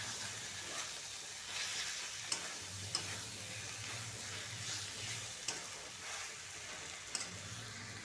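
Mixed vegetables fry in a pan for a home-cooked curry, giving a steady close sizzle broken by a few sharp clinks of a stirring spoon against the pan.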